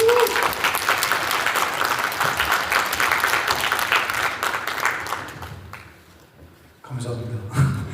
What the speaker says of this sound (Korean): 큰 박수로 환영해 주시겠습니다.